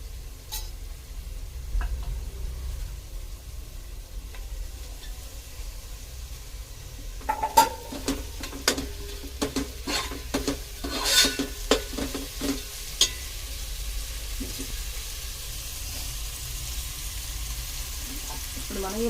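Mint leaves frying in a pan for eggplant dum biryani: a soft sizzle at first, then a run of sharp spoon taps and stirring scrapes against the pan, close and uneven.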